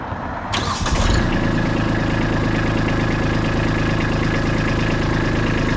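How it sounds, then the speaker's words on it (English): A tractor engine that fires up with a brief rattling start, then settles into a steady, loud, close idle with a low rhythmic chug, no voices. "I'm going to come in today and use the tractor, box blade, scarifiers, and clean up all these holes"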